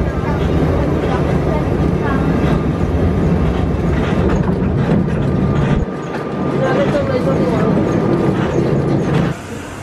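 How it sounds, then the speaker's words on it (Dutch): A small tourist train rolls past in Sóller, Mallorca, with a loud, continuous rumble and rattle close by while people talk over it. "Daar gaat het treintje weer, waar we net in zijn geweest."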